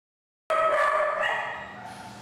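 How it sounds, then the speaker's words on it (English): A puppy in an animal shelter cage lets out a sudden loud yelping bark that stretches into a fading howl, close up and alone after a moment of silence. "in a cage next to a howling puppy"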